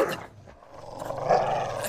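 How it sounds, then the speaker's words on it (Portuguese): A dog growls low and rough, a short menacing rumble that fades briefly and then swells again, heard close and alone. "Cachorro chato."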